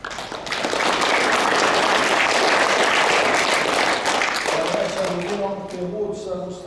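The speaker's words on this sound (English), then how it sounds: "just give him a round of applause" Applause fills a hall at the PRFU 2020 prize giving for the club organiser: a loud, sustained round of clapping that swells quickly, then tapers as a voice begins speaking near the end.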